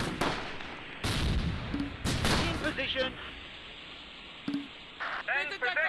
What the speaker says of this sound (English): You can hear the grenades from the assault up here.